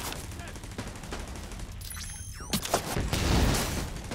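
Pistol gunfire in The Division 2, a run of sharp shots and bursts under a busy game mix, with a louder cluster of reports toward the end.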